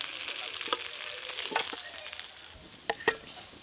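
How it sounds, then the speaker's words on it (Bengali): Hilsa fish heads fry lightly in hot oil in a kadai, giving a steady crackling sizzle with a few sharper pops near the end, close and fairly quiet, with no talking. "এই যে ইলিশ মাছের মাথাগুলো একদম হালকা করে ভেজে নিয়েছি"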